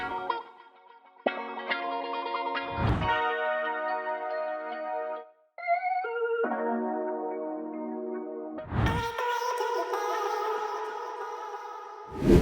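Juice Strings virtual instrument playing chromatic string accents: layered sustained notes and chords in short phrases, broken by brief pauses and a few deep thumping hits, bright and effects-laden with no voices.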